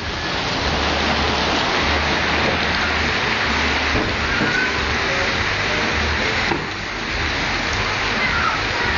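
Light drizzle falling in Andahuaylas, Peru, a dense, even hiss of rain that holds steady and fairly loud throughout, with no voices.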